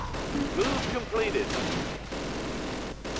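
Gunfire in the WWII strategy game Close Combat: Last Stand Arnhem, a dense rumbling barrage of shots and distant blasts running continuously beneath a voice talking over it.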